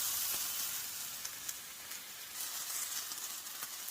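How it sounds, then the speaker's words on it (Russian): Chopped onion and mushroom stems sizzle in a frying pan with a faint, steady hiss and occasional soft crackles, with no talk. "На сковородку выложила лук с порезанными ножками."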